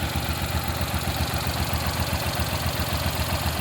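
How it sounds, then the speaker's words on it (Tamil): A 2010 Maruti Suzuki Alto LXi petrol hatchback engine idles steadily, an even mid-pitched purr with a fast regular pulse, close and alone without talk. "இன்ஜின் ஸ்மூத்தாக சூப்பராக இருக்குதுங்க."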